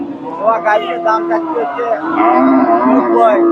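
A crossbred dairy cow lowing at the Dakumara cattle market in Bogura, Bangladesh, a long drawn-out moo rising over nearby chatter and general crowd noise.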